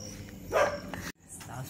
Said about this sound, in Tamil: குறைக்குது நாய்